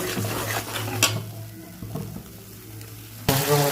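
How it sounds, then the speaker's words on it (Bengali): Ginger, green chilli, tomato paste, salt and spices fry in a pan while a spatula stirs, scraping and clinking against the metal, with a brief louder clatter near the end and no talking. "মশলা ভেজে নেব।"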